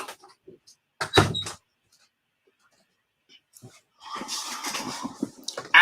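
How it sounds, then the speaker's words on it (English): A door is pushed shut indoors, giving one solid, fairly loud thud with a short rattle. Quiet stretches surround it, and a burst of broadband noise follows. "Hold on, let's shut this door real quick."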